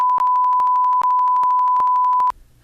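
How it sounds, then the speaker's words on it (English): A steady censor bleep tone plays alone for over two seconds, cut by several sharp clicks and one brief gap, then stops abruptly into faint low noise. "You better not bleep me again."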